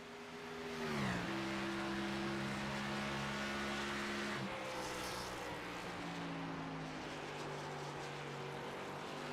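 Race trucks roar around Nashville in a racing video game, with loud, sustained engine drones that shift pitch as they slow and climb again, rising and dropping over several seconds with no talk.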